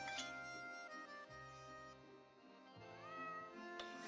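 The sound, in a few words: cat meowing in cat food advert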